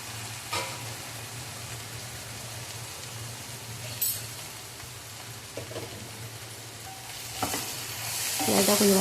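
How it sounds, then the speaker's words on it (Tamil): Food being sautéed with coconut in a pan on a home stove, a quiet low sizzle with occasional scraping and stirring clatter from a utensil, growing louder near the end. "லைட்டாக கொஞ்சம் வதக்கி விட்டுக்கலாம்."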